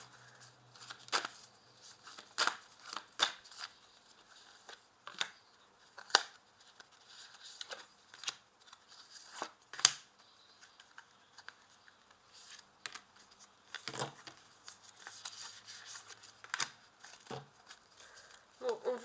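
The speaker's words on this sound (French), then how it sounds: "je vais recouvrir le reste des cartes avec l'oracle de la voix des âmes" Oracle cards handled and laid out on a table during a tarot-style reading, giving soft papery shuffles, slides and taps in irregular bursts, close and fairly quiet, with a voice speaking intermittently.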